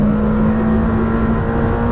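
A Lamborghini Temerario's engine holds a steady, loud high-rev drone from inside the car, with a strong tonal hum and no voices.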